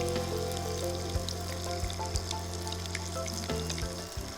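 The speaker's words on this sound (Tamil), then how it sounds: "இது வந்து கொஞ்சமாக இருக்கிற எண்ணெயிலே கூட நம்ம பொரித்து எடுத்துக்கலாம்" Banana flower kola balls deep-frying in a small amount of oil, a steady bubbling sizzle close by with a faint background hum and occasional soft knocks.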